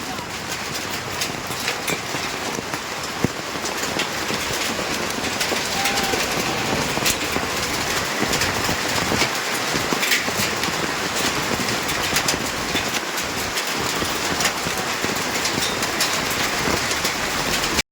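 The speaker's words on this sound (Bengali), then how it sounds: "এখন বলতে বলতেই বৃষ্টিটা নেমে গেল, শিলা বৃষ্টি হচ্ছে" Hail and rain pour down on a street in Alipurduar, heard from under a tarpaulin shelter by a footpath: a continuous, loud, dense hiss of downpour with scattered sharper hits throughout.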